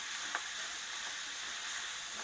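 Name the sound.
minced pork being stir-fried in a pan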